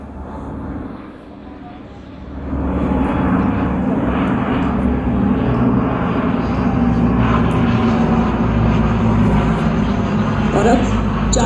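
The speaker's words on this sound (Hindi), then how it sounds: "The captains of the two Dorniers are Wing Commander Shubham Mishra and Wing Commander Neeraj Dwivedi, and their Tangail Formation" Two Dornier aircraft flying past in formation over a Republic Day parade, a loud, steady engine roar that swells after a couple of seconds and holds, with a commentator talking over it.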